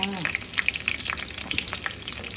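Squid frying in a pan, a steady close crackling sizzle with scattered sharp pops and spits throughout, no voices.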